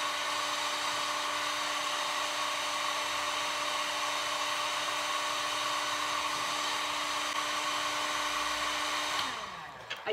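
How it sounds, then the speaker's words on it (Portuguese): A heat gun warming glued EVA foam gives a steady, high-pitched electric whine with a constant airy blow. It runs alone at an even level, then winds down and cuts off near the end. "vem aqui no soprador térmico, vou dar mais uma aquecida"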